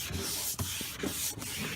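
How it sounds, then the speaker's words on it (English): Steady, close hand sanding of a car headlight lens with 400-grit sandpaper, a rough, rhythmic back-and-forth scratch on a hard surface, strokes briefly pausing between passes. "you just want to go through with this sanding method with the 400 grit first"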